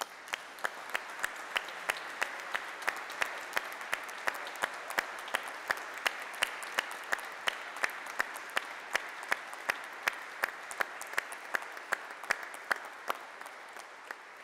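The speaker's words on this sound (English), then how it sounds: "Round of applause for our newly confirmed." A congregation at the St. Ignatius Parish Easter Vigil applauds the newly confirmed: steady, sustained clapping from many hands in a reverberant church, fairly soft and even throughout, with occasional louder individual claps.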